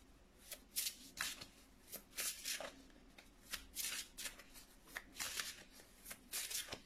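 Tarot cards are shuffled by hand in quick, crisp riffling bursts, repeated steadily about a dozen times, close and fairly quiet over a low room hum.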